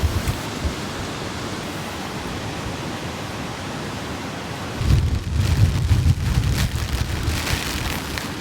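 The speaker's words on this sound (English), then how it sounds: "We have heavy driving rain coming in, and there's wind" Heavy, wind-driven rain pounds steadily on a large inflatable air tent while car camping in a storm, a dense roar that surges louder partway through as gusts hit.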